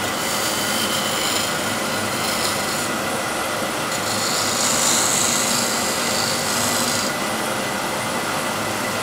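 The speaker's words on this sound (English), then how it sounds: "So now with the shear scraper," A shear scraper shapes a wooden bowl spinning on a lathe, a close, continuous rough scraping hiss with a steady hum beneath, and no speech.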